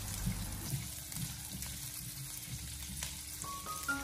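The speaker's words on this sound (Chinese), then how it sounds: "下切好的肉丁，开小火给它翻炒一下，把肉丁翻炒至变色" Diced pork stir-frying in a wok over low heat gives a steady, close sizzle with soft stirring and scraping, running continuously with no talk.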